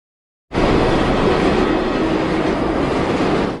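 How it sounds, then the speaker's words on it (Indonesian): After a brief silence, a high-speed train suddenly roars past at close range, a loud, sustained rumble with rattling wheels that holds steady, then cuts off. "Setelah itu datang kereta api cepat."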